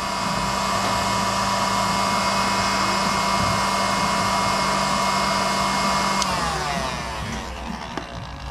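A heat gun blows steadily at close range as it melts the solder ring inside a solder sleeve on wires, a loud continuous fan hiss that tapers off in the last couple of seconds, with no talk.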